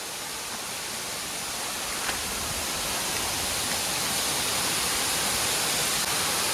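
Opalgala waterfall pours in a dense, unbroken roar of rushing water, loud and steady throughout with no voices.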